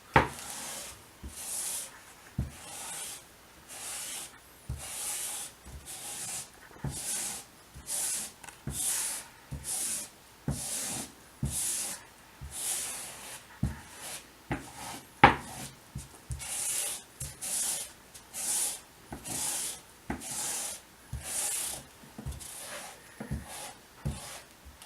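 Dark polishing compound rubbed onto a leather strop in a homemade strop build, a rhythmic series of short scraping rubs repeating about once a second, close and dry, with no talk.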